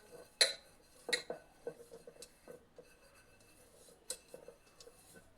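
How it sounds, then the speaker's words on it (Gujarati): A spoon scrapes and taps against the bottom of a pressure cooker while spreading ghee, a few sharp metallic clinks followed by soft scraping strokes, quiet and close with no talk. "ઘીને આપણે તળિયે આ રીતે ફેલાવી દેવાનું."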